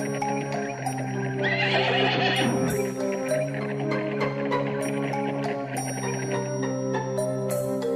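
A horse neighs loudly and close, a long whinny over steady hoof clip-clop of a horse-drawn royal carriage passing a wheat field, with bell-like tones ringing alongside.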